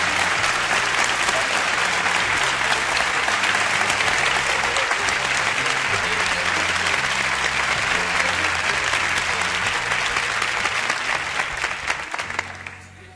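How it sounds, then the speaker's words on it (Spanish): A theatre audience gives long, sustained applause, loud and dense from start to finish before fading out at the end, with no voices over it. "para dar un fuerte aplauso a todos aquellos que han hecho posible que los actores por fin tengamos una casa"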